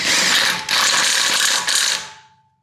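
A ratchet spins a bolt biter socket on a bolt in a car workshop, giving a close, fast clicking burst for about two seconds with a short pause partway.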